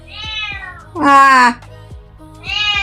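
A cat meows close up in three distinct calls, two shorter mews bracketing a louder, drawn-out, strained middle meow, with brief quiet gaps between them and no talking.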